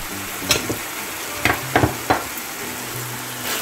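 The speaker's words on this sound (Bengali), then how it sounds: "পেঁয়াজ আমি এখন এই পর্যায়ে অ্যাড করে দিচ্ছি, কিউব করে রাখা পেঁয়াজগুলো। দিয়ে দিচ্ছি জুলিয়ান কাট ক্যাপসিকাম কুচি" Cubed onion and julienned capsicum stir-frying for Szechuan beef, a constant loud sizzle marked by several sharp spatula strikes and scrapes against the pan, close up with no voices.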